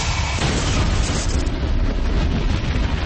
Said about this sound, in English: The explosion blows out one of the inner panels.